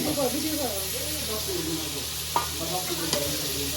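Food frying in a karai during an outdoor duck picnic, stirred with a steady sizzle and hiss, a couple of sharp scrape clicks standing out, while voices talk over it.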